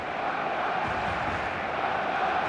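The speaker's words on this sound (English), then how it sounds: "The stadium is full of noise and energy." A stadium crowd in the eFootball video game makes a dense, steady roar of massed voices and noise, moderately loud and constant throughout without clear breaks.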